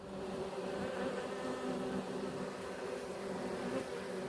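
Honey bees buzzing around a hive, a steady, dense swarm drone holding evenly throughout with no voices.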